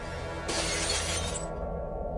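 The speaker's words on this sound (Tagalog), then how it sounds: "Bigla ring nabasag ang salamin sa ibabaw ng dining table" Glass mirror shattering on a dining table: a sudden bright crash of breaking glass lasting about a second over a low, steady background rumble, then cutting off abruptly.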